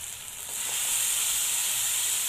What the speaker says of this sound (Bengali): এবার এর মধ্যে দিয়ে দেব টমেটো আর দিয়ে দেব আগে থেকে কেটে রাখা লাউ